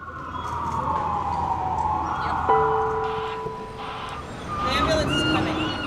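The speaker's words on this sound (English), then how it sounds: "The ambulance is coming." An ambulance siren wailing nearby with falling and steady tones, mixed with street noise and other traffic sounds.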